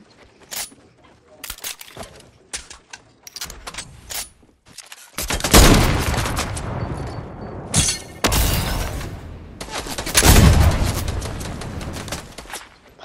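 Gunfire in Fortnite, with scattered sharp single shots early on, then dense bursts of rapid firing and impacts at close range, one round after another, as a voice talks intermittently.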